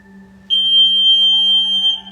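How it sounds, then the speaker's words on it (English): A breath-work timer sounds a single sustained, piercing electronic tone that holds steady for about a second and a half before cutting off, over a faint background hum. "I'm using a timer. Hopefully you can hear that."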